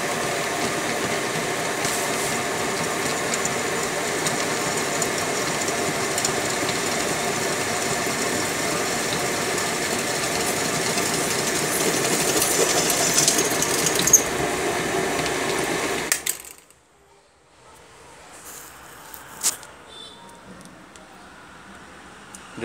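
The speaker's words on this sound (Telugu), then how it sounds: "డ్రిల్ హోల్ వేసాము" A column drilling machine runs with a loud, steady motorised whir and mechanical rattle for about sixteen seconds, then cuts off abruptly, leaving only faint room noise and a couple of small knocks.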